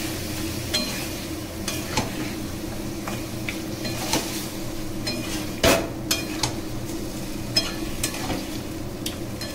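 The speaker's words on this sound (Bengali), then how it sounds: "মশলাটার সঙ্গে মাংসটা মিশিয়ে নেবেন, নিয়ে কষাতে থাকবেন।" Chicken and spice masala stir-fry in a pan for chicken kosha, with a steady sizzle beneath regular scraping and clacking strokes of a spatula against the pan, close by and uninterrupted by speech.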